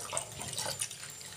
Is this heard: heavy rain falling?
no